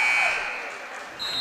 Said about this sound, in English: Green, buzzer's gonna go off